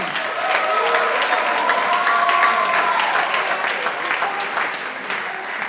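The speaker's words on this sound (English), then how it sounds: "So give yourselves a round of applause." More than 140 jazz workshop students at a community showcase and closing ceremony break into loud, sustained applause, with thick crowd clapping and scattered cheers or whoops rising over it before it slowly eases.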